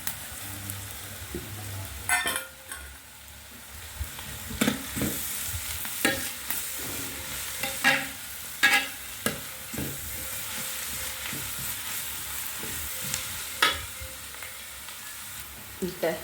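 Curry leaves frying in a pan for a Kerala-style boti (tripe) curry, giving a steady close sizzle with frequent sharp scrapes and taps of a spoon stirring, and faint background sounds in places.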